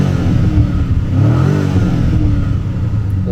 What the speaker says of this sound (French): C'est un vrai son moteur, c'est pas un faux son d'échappement.